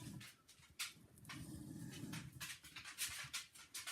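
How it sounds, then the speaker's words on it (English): A dog moves about a kitchen, panting audibly, with soft clatters and light knocks as it shifts around, faint and close-indoors, with no one talking. "That's my dog clattering about in the kitchen"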